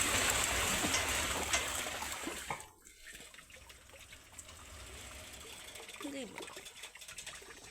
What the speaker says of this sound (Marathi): पाण्यातून बंडी चालते